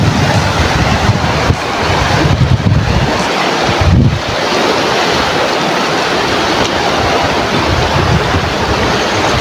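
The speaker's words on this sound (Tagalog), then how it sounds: "Lakas ang agos ng tubig." The powerful current of the Karayan river in Abra roars steadily and close, a thick wash of rushing water with gusts of wind hitting the microphone.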